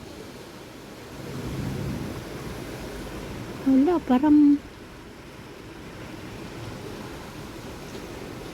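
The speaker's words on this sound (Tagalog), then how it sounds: "Lakas ng ulan eh." Heavy rain pours outside a hotel entrance as a broad steady wash of noise that holds throughout, with a brief spoken exclamation partway through.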